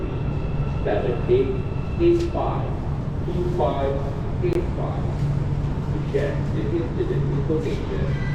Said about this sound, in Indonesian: Coba kita tunggu dulu MRT. Ah, udah sampai.